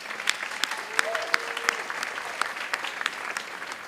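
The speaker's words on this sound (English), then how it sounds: "let's give them one more round of applause" A crowd at a speech competition applauds the speakers with sustained, even clapping and scattered sharp individual claps, with faint voices underneath.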